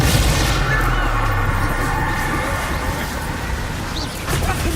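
A Bombarda spell explodes during a spell-casting duel in Hogwarts Legacy: a deep, rumbling blast sits in a thick wall of booming combat noise, then fades into a lingering roar.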